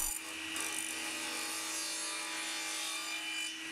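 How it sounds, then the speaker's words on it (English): A table saw cuts a rebate along thin wood strips, giving a continuous loud, close whining rasp with a sharp onset and steady cutting noise throughout. "Then in the strips I cut, cut a rebate in the back to hold the ply."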